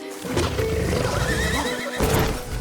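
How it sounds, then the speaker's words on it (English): A horse in The Witcher 3 video game neighs loudly in a long, wavering whinny, with hooves clip-clopping underneath and a second burst of neighing near the end, close and prominent against game ambience. "Taking your beloved roach for a stroll, enjoying the sights of the continent is just as much fun as when Arthur did it with whatever horse was still alive at the time"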